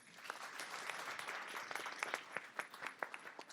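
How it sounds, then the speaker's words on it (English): A business forum audience applauds its event sponsor with steady, dense clapping from a large room that holds throughout, moderately loud, with a few sharper individual claps near the end. "Can I get a round of applause for them?"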